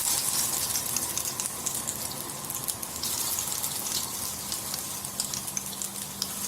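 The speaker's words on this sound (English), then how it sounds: "My mom is frying it." Cabbage balls (kola urundai) fry in hot oil, giving a continuous close bubbling sizzle with crackling pops that holds steady the whole time.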